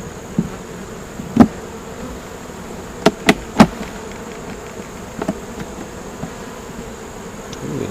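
Honeybees crowd a hive frame during a beekeeping inspection, their continuous buzzing drone steady throughout, broken by a few sharp taps and knocks close by.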